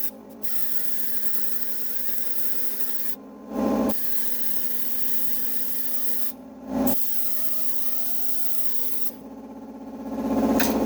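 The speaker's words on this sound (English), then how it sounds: "I'm going to spray it with the copper primer that I have" Long bursts of hissing spray from an aerosol can of copper weld-through primer on a UTV frame, several passes separated by short pauses, close to the microphone.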